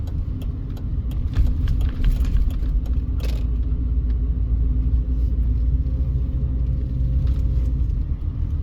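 Car rolling through an East Las Vegas neighborhood and turning left onto a street, a steady loud low engine and road rumble throughout with faint creaks and rattles inside the cabin.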